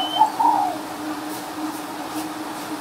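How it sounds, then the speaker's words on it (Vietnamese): A spotted dove gives a few soft, mellow coos near the start, fairly close, then fades into a quiet background with low hum. "Hót cái đây. Hót dữ thần lắm các bạn."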